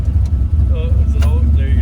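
A car's engine is power braked in place without lifting, a loud deep rumbling drone held steady and close. Voices talk over it.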